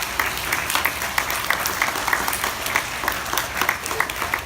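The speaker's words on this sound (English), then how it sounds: "give a big round of applause to your parents, your principal, and your teachers" An audience of school children applauding at a music performance, a steady wash of many hands clapping with a few sharper individual claps standing out, continuous and fairly near.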